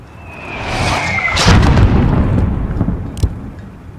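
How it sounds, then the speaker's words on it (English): Mortar and artillery fire in the video game Call of Duty Modern Warfare: a broad rumbling blast swells near the middle of the scene, a sharp crack follows late, and a whistling tone and steady low battlefield rumble sit underneath. "There's still a mortar out there."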